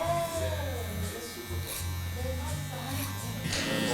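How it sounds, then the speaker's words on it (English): Electric hair clippers buzz steadily while trimming thick curly hair clipper over comb, a close, continuous motor hum with slight shifts as the blade moves through the curls, with talking over it. "Just going clipper over comb, being a little more aggressive until I look in the mirror"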